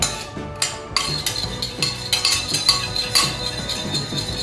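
Metal spoon clinking repeatedly against a bowl while stirring an olive oil and salt salad dressing, bright irregular taps with no one talking.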